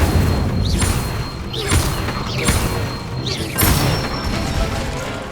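Incendio fire spell cast repeatedly at a training dummy in the Hogwarts Legacy video game, four whooshing bursts each ending in a thudding impact and crash, evenly spaced and fairly loud, with no talk.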